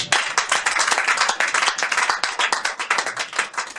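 A church congregation claps and applauds together, a loud dense burst of rapid overlapping handclaps that carries on steadily for several seconds, without speech over it.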